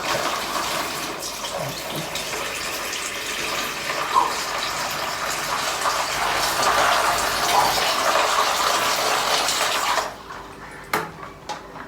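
Water pours steadily from a bottle into a bowl for about ten seconds as a continuous splashing rush, then stops, leaving a few faint clicks and knocks.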